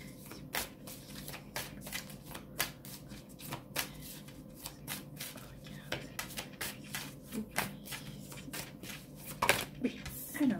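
Oracle cards being shuffled by hand for a card reading, a quiet series of rhythmic riffling flicks and soft rubs repeating steadily throughout at close range.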